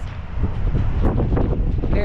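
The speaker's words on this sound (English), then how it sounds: "Ooh, windy this way." Gusty wind on the coast at Fort McAllister State Park buffets the microphone with a rough, loud low roar that rises and falls in bursts throughout.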